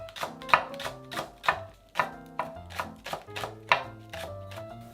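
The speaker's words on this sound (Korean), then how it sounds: "나물에 넣을 대파를 먼저 썰어 줄게요." A knife chops green onion (daepa, Korean leek) on a cutting board in an even, quick rhythm of crisp taps, close and clear with no talk.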